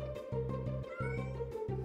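A cartoon kitten stuck up a big tree meows repeatedly, a run of bright, close, evenly spaced mews with no talk over them.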